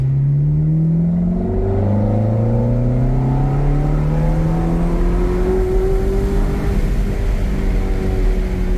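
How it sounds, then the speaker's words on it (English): A 2007 Ferrari F430 Berlinetta in automatic sport mode revs hard while accelerating, its engine note climbing steadily and loudly through held RPMs from inside the car. "So in sport mode, it doesn't want to shift quickly. It likes to keep those RPMs up."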